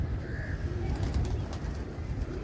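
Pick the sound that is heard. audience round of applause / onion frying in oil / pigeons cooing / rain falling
pigeons cooing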